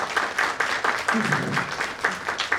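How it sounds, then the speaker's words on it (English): Audience applause at a school event welcoming a school principal, steady clapping from a crowd filling the whole stretch, moderately loud and fairly close, with some voices mixed in. "Please give her a round of applause."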